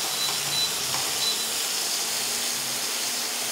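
Prawns frying in a pan for doi chingri, a steady, even sizzling hiss that keeps going without a break and stays fairly loud and close throughout.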